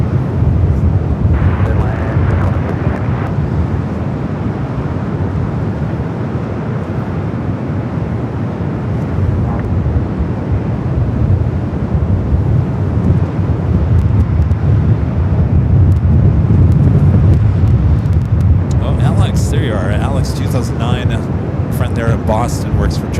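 A Boeing 787 Dreamliner arriving from Brisbane approaches to land at Los Angeles airport in gusty wind, heard as a steady, broad roar of wind and distant jet engine noise throughout, with a voice talking over it.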